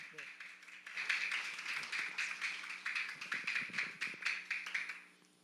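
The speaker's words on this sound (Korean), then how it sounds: "자, 우리 목사님 나오실 때 우리 환영의 박수 크게 올려드리겠습니다" A church congregation's welcoming applause for Pastor Lee Ru-da at a Sunday service in Cebu: sustained, dense clapping from a crowd that swells after a second and holds steady, with a voice briefly audible at the start.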